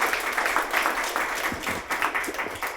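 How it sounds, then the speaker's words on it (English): An audience at an economic forecast presentation breaks into applause, a moderate wash of clapping that stays fairly steady, with a few louder individual claps near the end. "So just a huge round of applause for that amount of work."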